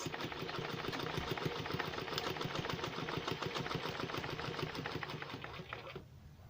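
Sewing machine running steadily as it stitches a straight seam on nightwear, a loud continuous rapid mechanical whir with fast needle clatter, stopping abruptly near the end.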